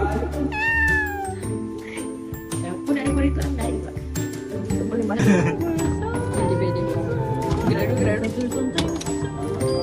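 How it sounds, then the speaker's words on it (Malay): A cat meows repeatedly at close range, with a few rising, drawn-out calls over a busy background of clinks and faint voices. "Bunyi kucing."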